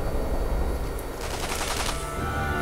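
Gunfire in the video game Sniper Elite V2 plays as a dense, loud burst of rapid shots over a constant noisy game background, with no talking.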